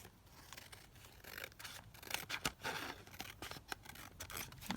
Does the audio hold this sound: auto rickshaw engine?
no